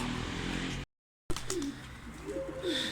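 A pigeon coos softly a few times against a hissy background, after a brief cut to silence.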